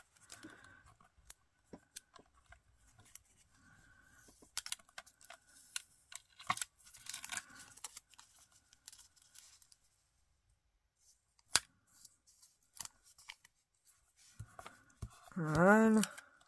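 Scissors cut paper for scrapbooking in short, sparse snips and clicks close up, separated by quiet gaps, with a brief animal-like bleat near the end.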